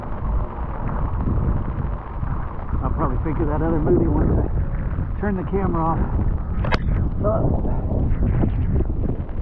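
Gusty wind roars steadily and buffets the microphone on a rainy walk. The low, rumbling noise runs the whole time while someone talks over it.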